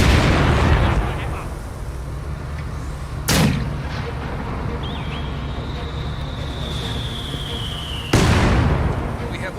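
Mortar fire: two heavy blasts about five seconds apart over a low steady rumble, with a thin descending whistle drawn out between them.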